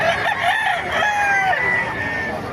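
A rooster crows loudly and close by at a pet market in Bocaue, a long drawn-out call with a rising and falling pitch over a steady noisy background.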